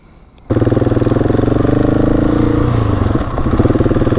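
A motorcycle on a trail ride in Spain starts moving, its engine jumping abruptly from quiet to a loud, steady close-up drone with a pulsing rhythm, then rising again as it gathers speed.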